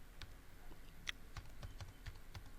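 Faint, sparse keystrokes on a computer keyboard while Java code is entered, irregular taps in a quiet room.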